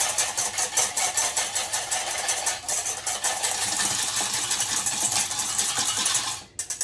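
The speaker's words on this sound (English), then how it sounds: "So you just have to whisk it up." A hand whisk beats chickpea liquid at room temperature in a bowl until frothy, making a loud, continuous, rapid whirring clatter that eases off at the end.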